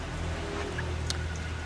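Steady outdoor rain falls on a durian orchard during weeding, a continuous broadband patter with a few sharper drop hits, moderately loud and with no voices.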